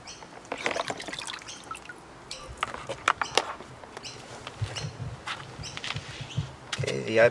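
Water poured over iPad mini, Nexus 7 and iPad 3 tablets in a durability test, a close splashing trickle with scattered patters and drips of uneven rhythm, swelling at the end.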